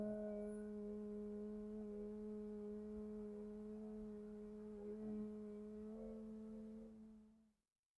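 A steady low human hum in Bhramari pranayama bumblebee breathing, a voice imitating a bee's buzz, held evenly for about seven seconds before stopping, quiet and alone.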